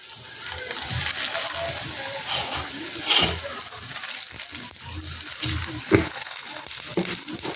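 Potato and paneer parathas frying in hot oil in a pan, a steady soft sizzle with scattered crackles and a couple of sharper pops, close by and fairly quiet throughout.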